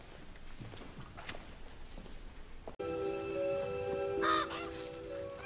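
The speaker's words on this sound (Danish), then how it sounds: "Nej, de er krafthelvede frække, de møgfugle." Birds call loudly in an apple orchard with harsh honking cries over steady outdoor ambience, joined midway by a sustained tonal hum.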